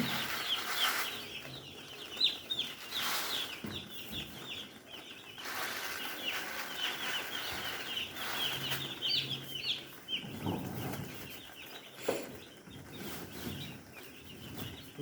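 Hens cluck and chatter steadily at close to moderate range, with occasional wing flaps and rustling, no talking.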